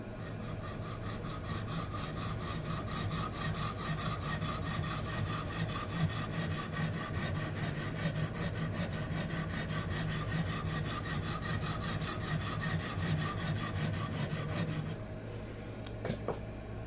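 An Eafengrow EF11 knife blade rasps steadily across a budget diamond sharpening plate in continuous back-and-forth strokes, close and even, with a short pause near the end and no speech.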